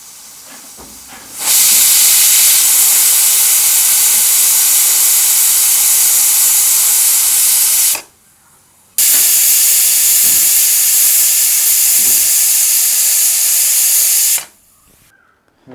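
A pressure cooker cooking beef for a Kerala-style pepper roast lets off steam in two long, loud, steady hissing blasts, each lasting several seconds, separated by a short silence and ending abruptly.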